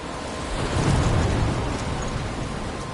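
Storm ambience in the video game Life is Strange: a steady, full wash of heavy rain with a low, muffled rumble of thunder swelling near the start, continuous and without voices.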